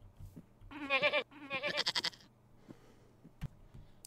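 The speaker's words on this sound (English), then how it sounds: "More goats." Goats in the TerraFirmaCraft video game bleat twice in quick succession, a close, loud pair of wavering cries, followed by faint footsteps and a soft thump.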